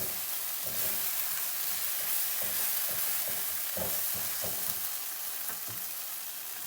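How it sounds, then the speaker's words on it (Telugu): Onions, onion paste and tomato paste fry in a pan for a dum aloo curry, giving a steady close sizzle with repeated scraping stir strokes running through it. "ఇవన్నీ మిక్స్ అయ్యేలాగా మంచిగా ఫ్రై చేసుకుని"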